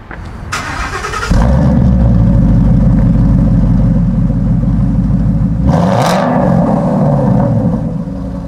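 A modified car started after closing the hood, the engine cranking and catching with a burst, then settling into a loud deep rumbling idle, with a sharp rev blip near the end, close by and without talk.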